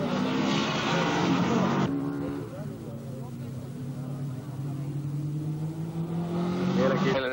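Racing motorcycles at the 1982 Ruissalo road race in Finland, engines whining past with rising and falling pitch, loud at first, then fading into a distant drone before another machine approaches, under faint commentary.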